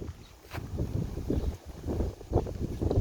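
Light wind on a rooftop pigeon loft buffets the microphone in soft, uneven low rumbling gusts.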